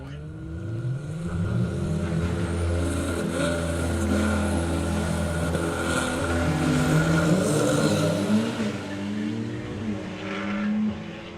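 A bare-chassis funny car without a body races down a drag strip at the Summer Nationals, its engine roaring and revving loudly with shifting pitch, and a commentator talks over it.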